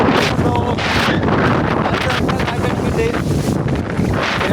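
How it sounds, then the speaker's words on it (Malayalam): Strong wind gusts in Salalah, buffeting the microphone with loud, continuous roaring bursts that rise and fall, and a voice faintly mixed in. "2 ദിവസമായിട്ട് നല്ല കാറ്റുണ്ട് ഗൈസ്"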